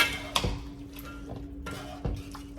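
Milk is stirred into spaghetti sauce in a pot, heard as a few sharp clinks of a utensil against the pot with soft scraping and a low steady hum behind.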